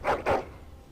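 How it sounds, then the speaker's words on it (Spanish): A dog in the video game Dragon Age Origins gives two quick close barks in succession, short and loud, then falls silent. "El perro."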